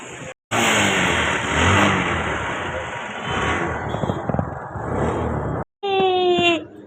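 A motorbike engine revving loudly and close, a sustained roar with brief cutoffs and varying pitch, ending in a rising rev.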